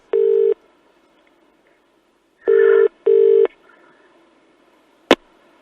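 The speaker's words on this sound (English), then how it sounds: "this is what happened when Jason, the American record producer, answered the phone" A telephone rings in three bursts of electronic warbling tone: one burst, a pause, then two close together, followed by a sharp click as the handset is picked up to answer the call.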